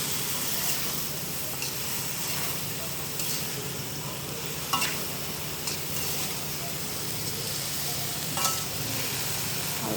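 Vegetables hiss and sizzle in a hot pan while a utensil gives a few light, occasional scraping stirs, close-up and fairly soft, with no talking.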